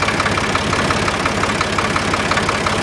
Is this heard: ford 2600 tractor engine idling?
yes